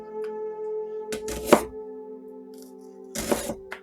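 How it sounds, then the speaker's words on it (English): A knife thinly slices onions for French onion soup on a cutting board in two short bursts of rapid thuds, separated by a pause, over a faint steady hum. "you're definitely seeing all of this onion chopped up"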